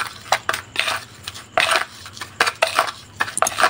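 A spoon stirs a gritty rat bait mixture containing chili powder in a bowl, giving irregular crunchy scrapes and clinks in quick close bursts.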